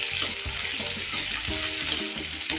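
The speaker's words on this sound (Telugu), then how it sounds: "పచ్చిమిరపకాయలు అయితే మంచిగా వేయించుకోవాలండి." Green chillies fry in a hot pan with steady crackling sizzle and occasional stirring scrapes, close and continuous.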